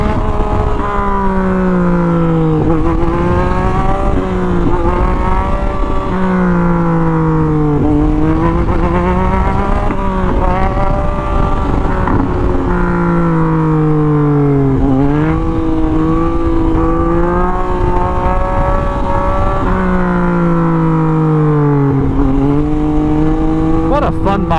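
Motorcycle riding with a loud, steady engine note from close range that climbs and drops repeatedly through gear changes, wind roar underneath.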